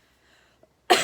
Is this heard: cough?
yes